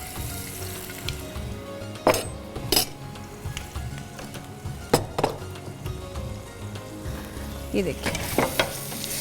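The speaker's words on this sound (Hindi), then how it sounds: "चिकन को हम 1 बाय 1 करके ऐड कर देंगे इसमें।" Chicken pieces sizzle steadily in a hot pan with ginger garlic paste, broken by sharp metal clinks and stirring scrapes of a utensil against the pan, while a voice talks briefly over the frying.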